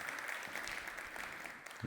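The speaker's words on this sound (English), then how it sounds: "A great warm applause to Philipp, please" Warm audience applause for a presenter at a sustainability talk, a steady wash of many hands clapping at moderate distance, fairly soft.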